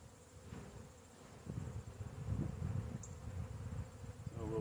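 A colony of honeybees, agitated while being moved from Langstroth to Layens frames, makes a steady, close buzzing hum that swells louder toward the end, with no talking.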